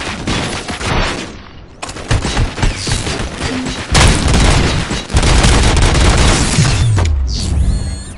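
Loud, dense gunfire in a RoboCop video game, sustained bursts and booming impacts over a thick mechanical din, with a brief pause before the firing resumes.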